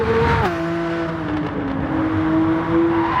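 A Lamborghini Countach QVX race car held in third gear on track, its loud engine note droning close by, dipping in pitch after a brief lift and then holding a steady, slowly sagging tone under load.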